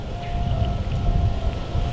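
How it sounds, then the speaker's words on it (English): Steady cold north wind rushes and buffets a microphone outdoors during an evening deer hunt, a continuous low roar with no voices. "It's about 38 now with a 10-mile-an-hour north wind."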